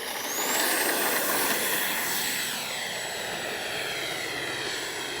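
FMS 64mm F/A-18 Hornet electric ducted-fan RC jet on its maiden flight, a loud continuous high whoosh and whine as it passes, rising early then holding steady.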